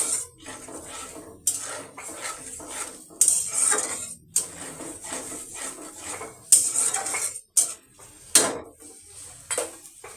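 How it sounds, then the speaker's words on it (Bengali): Meat and papaya curry being stirred in a pan, with repeated close metallic scrapes and clanks of a spoon against the pan in irregular bursts over a faint sizzle, no talking. "এখন এটাকে ভালো করে কষিয়ে নিব"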